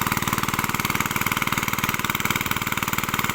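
A petrol engine-driven water pump, set up with its pipe to drain a freshly sown rice field, runs steadily at a fast, even idle-like chug, close and continuous throughout with no talk.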